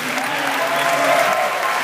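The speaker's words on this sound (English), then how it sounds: "Please, another round of applause for the kids." An outdoor crowd claps and cheers for kids at a public event, a brief, loud, dense burst of applause with faint voices mixed in.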